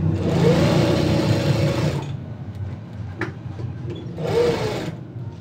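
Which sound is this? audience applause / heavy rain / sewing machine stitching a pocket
sewing machine stitching a pocket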